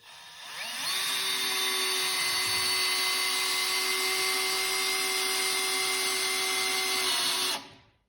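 A Bosch GSR 12V-140 cordless drill/driver driving a 3 1/8-inch washer-head cabinet screw, a steady high whine that ramps up, holds for about six seconds and cuts off abruptly, loud and close.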